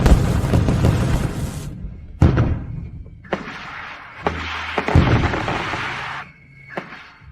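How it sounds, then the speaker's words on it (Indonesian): Fireworks set off late at night: a series of sharp booms and bursts, several loud reports separated by short gaps, each with a ringing, crackling tail. "Masih ada yang menyalakan kembang api untuknya."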